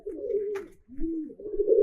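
A Giribaj pigeon with a cumin-coloured neck coos up close: two low, rolling coos with a short gap between them, fairly loud and without speech.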